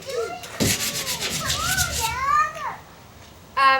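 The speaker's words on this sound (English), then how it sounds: "this is what I do with the drawers when I'm sanding." Rhythmic rasp of sandpaper worked over wooden dresser drawers being prepped for chalk paint, short back-and-forth rubbing strokes close by, mixed with children's voices and play chatter in the background.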